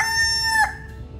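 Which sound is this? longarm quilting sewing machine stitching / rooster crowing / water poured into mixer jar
rooster crowing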